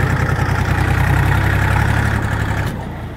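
A new minitractor with a KM385BT diesel engine chugs loudly and close during its break-in drive, a steady rhythmic knocking idle that fades slightly at the end.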